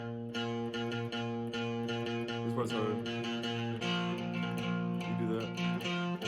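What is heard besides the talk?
electric guitar with distortion playing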